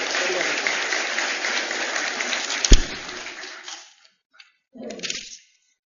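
An audience at a Brazilian tribute ceremony applauds in a dense burst for nearly four seconds, with a sharp knock partway through, then fades into silence before a short final flurry of claps.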